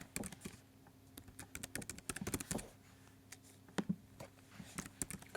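Quiet, close keystrokes on a computer keyboard as a new password is typed, arriving in uneven bursts of clicks with short pauses between them.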